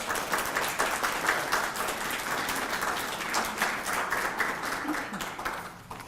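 Audience applause at a Holy Cross lecture hall, steady sustained clapping from a crowd welcoming a professor to the podium, fairly loud and even throughout, tapering slightly at the end.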